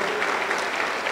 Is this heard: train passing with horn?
no